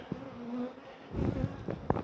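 Honey bees buzzing around an opened hive during colony splitting, a steady close drone with individual bees passing nearer the microphone, faint and continuous without any talking.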